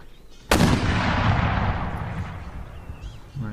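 A single heavy artillery blast in an Empire Total War battle, a sharp loud report followed by a long rumbling decay over a few seconds, with no talk.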